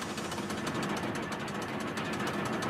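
A quarry rock-collecting machine in an animated story works steadily, giving a continuous loud mechanical thumping and rumbling drone with rapid pulsing beats and no voices.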